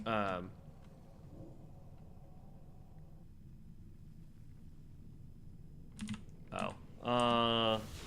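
A clicky computer keyboard with clackety mechanical keys is typed on in quick, dense bursts up close, with a voice speaking briefly at the start and near the end.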